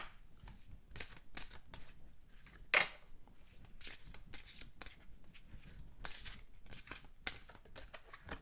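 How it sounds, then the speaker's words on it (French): A deck of oracle cards is shuffled and a card drawn, giving quiet, crisp riffling and slapping bursts that repeat irregularly through the stretch, close up and soft, with one sharper snap. "je vais tirer une carte de synthèse avec l'oracle de Marie"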